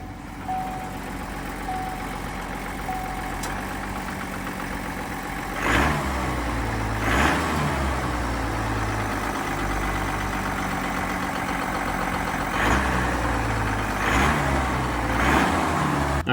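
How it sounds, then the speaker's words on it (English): An LZ0 Duramax diesel truck engine turns over and fires, then settles into a steady, droning idle with a few brief pulses and changes in tone over its low rumble. "I'm going to fire this truck up real quick and we can listen to it."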